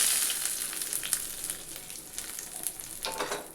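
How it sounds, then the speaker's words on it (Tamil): Hot oil tempering poured into onion tomato chutney, a close, bright sizzle with crackling pops that gradually eases while staying steady. "இப்போ தாளிப்பை சட்னியில் சேர்த்துக்கலாம்."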